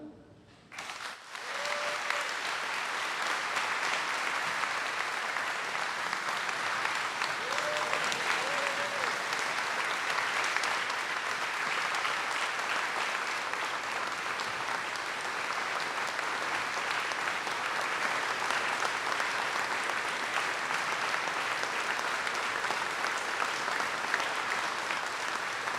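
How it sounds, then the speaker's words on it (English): Sustained applause from an outdoor Memorial Day 2020 crowd in Riverside, honoring a Marine colonel, stays loud and steady for about twenty-five seconds with no talking over it. "Let us give a warm applause for Colonel Sullivan"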